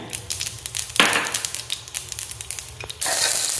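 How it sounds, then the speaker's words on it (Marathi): Mustard seeds hit hot oil in a pan for palak bhaji, giving a burst of sputtering sizzle and quick crackling pops up close, then a louder spraying hiss near the end. "आपण आता यात मोहरी घालून घेऊया।"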